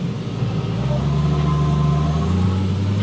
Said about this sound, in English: We got a diesel, probably a diesel V8 engine in there.